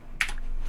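A single soft key press on a calculator keypad, a brief quiet click standing alone with no talk around it.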